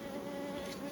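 Honeybees buzz at an open hive in a steady, close drone, a continuous hum with no voices.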